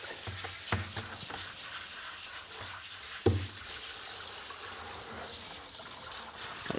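Water rinsing shampoo out of a dog's coat, a continuous splashing, hissing spray with a couple of louder bumps, close and steady throughout.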